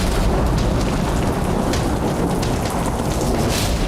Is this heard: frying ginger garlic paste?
no